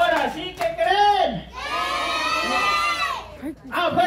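Children shouting and cheering at a birthday party with clowns, a loud sustained group yell in the middle framed by brief voiced cries and talk at either end.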